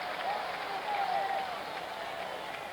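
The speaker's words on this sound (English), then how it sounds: "Didn't take long for this crowd to get something to cheer about." A baseball crowd at a 1975 World Series game between the Reds and the Red Sox, a sustained wash of cheering and applause, fairly loud and steady, with no speech in the clip.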